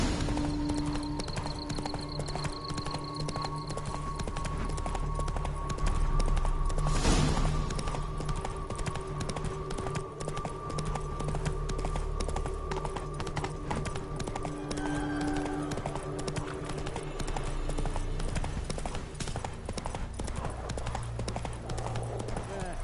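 Horse hooves clip-clop steadily and continuously while riding in The Witcher 3: Wild Hunt, a loud, even trot over a game ambience of background hum, with a brief burst of louder noise partway through.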